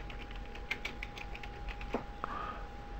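Soft, quick keystrokes on a computer keyboard as a folder name is typed, a light irregular patter of taps with a couple of sharper clicks, close and quiet over a faint steady hum.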